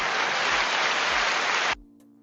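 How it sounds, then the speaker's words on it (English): A crowd gives a round of applause for SEC Chairman Paul Atkins, a loud steady burst of dense clapping that cuts off abruptly after under two seconds. "Round of applause for Paul Atkins."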